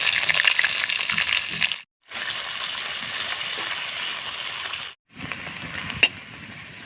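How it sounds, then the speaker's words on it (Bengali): Onions fry in oil with cumin and cinnamon, giving a crackling sizzle that twice drops out briefly, as if the pan were stirred or lifted, and then resumes. "এর ভিতরে আমি পেঁয়াজ দিয়ে ভেজে নেব।"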